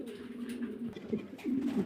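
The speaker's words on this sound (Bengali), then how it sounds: "তাহলে চলুন ডিসপ্লেতে একে একে বেশ কিছু কবুতর দেখাই" Mundian pigeons coo close by in low, soft, throaty rolls, a couple of overlapping murmuring calls repeating through the short stretch.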